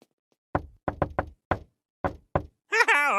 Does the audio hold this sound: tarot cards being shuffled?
no